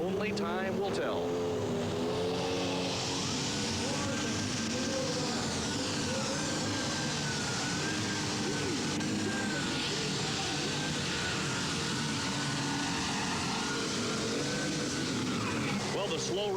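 An alcohol-powered super stock tractor at an NTPA pull in 1993, its engine a loud, sustained roaring drone with shifting tone as it works down the track, continuous for the whole stretch with a commentator talking over it.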